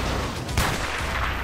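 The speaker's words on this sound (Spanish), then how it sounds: "Vamos a aturdirle con el sniper." Sniper rifle shot in Resident Evil 4, a single sharp crack near the middle with a brief boom under a dense, steady game background.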